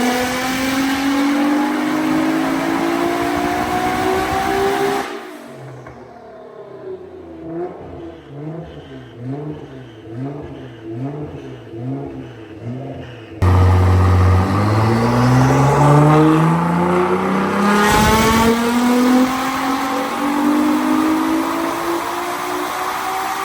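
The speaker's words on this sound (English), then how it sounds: "Romain's just finished up tuning the Alpha GTR on the hub dyno behind us" A powerful Alpha GTR engine on a hub dyno roars loudly up through the revs close by, drops to a burbling, pulsing idle, then winds up hard again.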